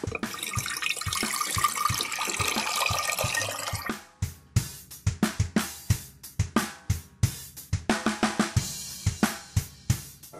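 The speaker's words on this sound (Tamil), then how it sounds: "குக்கரில் வந்து கொஞ்சம் தண்ணி ஊற்ற போகிறோம்" Water is poured into a pressure cooker on a lit stove to cook rice for Hyderabadi biryani. A continuous splashing stream runs for about four seconds, then gives way to a quick series of separate drips and splashes.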